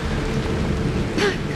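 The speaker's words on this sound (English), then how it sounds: "It is raining!" Steady rain hisses in the video game Honkai: Star Rail, a dense, even wash of falling water that swells briefly near the end of the short stretch.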